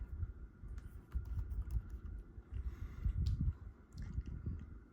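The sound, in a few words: typing text on a computer keyboard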